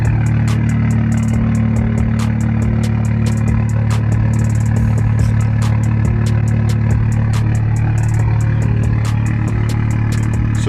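A warmed-up BMW F30 335i straight-six with a straight-pipe exhaust idles steadily, a loud deep continuous rumble with a faint ticking clatter, heard close and alone without talk.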